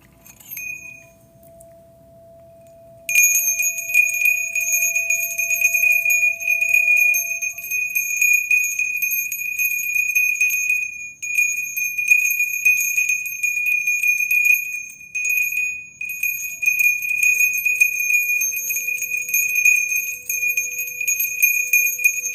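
A small bell rings steadily during a healing session, struck in a rapid continuous tinkling pattern with sustained bright tones, fairly close and alone, after a quiet opening with a faint low hum.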